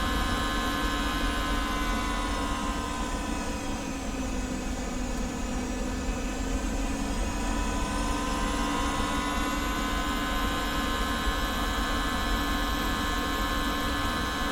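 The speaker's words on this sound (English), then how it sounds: "Not a bad takeoff." Jet airliner taking off in the X-Plane 11 flight simulator from Salt Lake City, a steady, loud engine roar with a high whine sweeping in pitch, continuous and unbroken for the whole stretch, no voices.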